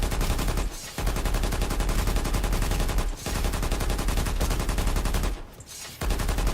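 Sustained rapid automatic gunfire from a video game weapon fills the clip, loud and close, broken by three brief pauses between long bursts.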